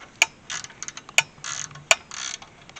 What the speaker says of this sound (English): I loosen those 2 bolts there.